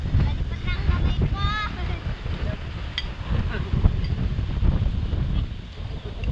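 Steady wind buffets the microphone with a rough, low rumble, while a voice briefly speaks over it.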